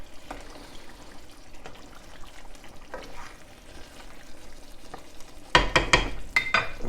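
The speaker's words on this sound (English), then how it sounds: "Give it a nice stir" Shepherd's pie filling being stirred in a pan: a faint sizzle and soft scraping, then a burst of louder clinks and scrapes of a spoon against the pan near the end, with no talk.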